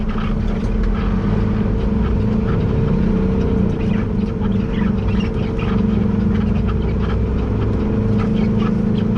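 A heavy haul truck's diesel engine drones loudly and continuously at close range, its low rumble holding steady through a downshift with no talk over it.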